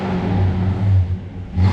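A car engine fitted with straight pipes revs hard and loud up close, a harsh, rumbling drone that swells and dips across a short burst.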